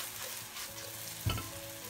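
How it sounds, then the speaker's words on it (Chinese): Eggplant with scallion pieces, oyster sauce and sugar stir-fries in a wok, a soft, steady sizzle broken midway by one sharp spatula knock. "最后加葱段，炒香后即可装盘"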